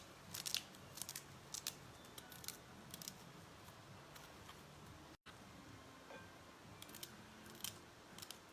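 Leaves being cut with scissors as an ingredient for a Tuscan panzanella, heard as quiet, brief snipping and crisp crunching bursts scattered over a low kitchen background.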